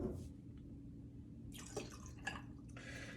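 Cranberry juice pours into a cocktail glass in a few short, quiet splashing bursts, close up with no talk.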